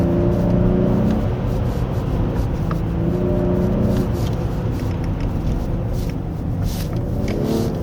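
A Genesis G80 3.5 turbo AWD in sport mode pulls hard again after a brief lift, its engine note rising loud and steady inside the cabin amid road and wind roar.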